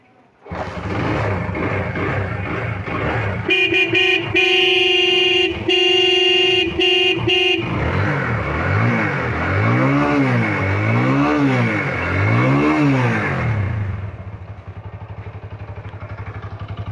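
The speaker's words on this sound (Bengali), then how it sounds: "দেখলে বুঝতে পারবেন যে ওয়াং গাড়ির সাউন্ড কী হয়" A Wuyang 125cc motorcycle idling loud and close, then its horn blaring in repeated bursts, followed by several rising and falling engine revs before it settles back to idle, with no clear talking.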